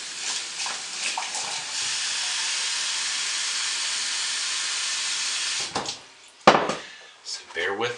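A stick blender whirs steadily while emulsifying lye water into soap batter, a loud continuous mechanical hum lasting several seconds, then stopping, followed by a few clunks and brief handling noises.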